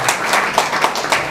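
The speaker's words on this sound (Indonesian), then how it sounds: "Tepuk tangan." A congregation at a combined cell-group Christmas celebration at GBI Permata claps together in a short, even burst of applause, several loose rhythmic clap pulses, fairly loud and close.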